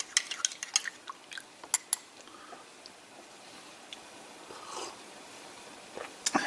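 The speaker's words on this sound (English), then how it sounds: "Let's stir up this bit of whitener here." A spoon clinks and scrapes against a cup while coffee whitener from a 2009 Canadian IMP ration pack is stirred into coffee, giving a quick run of light metallic ticks, then a quiet pause and a few more taps near the end.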